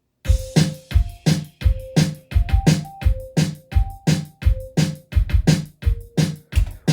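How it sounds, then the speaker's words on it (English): A synth bass pitched up three octaves rings out short glockenspiel-like notes in a bouncy melody over a steady, punchy beat of kick and snare hits. "It's actually a synth bass put up about 3 octaves."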